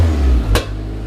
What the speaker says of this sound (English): Oh, you got backfire!